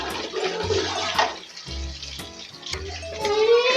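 Water pours into a cooking pot for making fish pulao rice, a continuous splashing gush with a gurgling tone that shifts as the pot fills, close and steady throughout.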